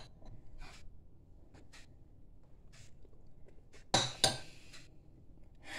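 A metal spoon clinks against a bowl while Christmas shortbread is made: a few faint taps, then two sharper close clinks in quick succession in a quiet kitchen.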